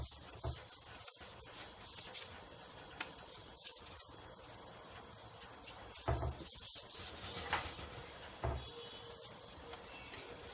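A scouring pad scrubs glass coated with homemade ash degreaser, making close, continuous rubbing and scraping strokes with uneven surges and small pauses.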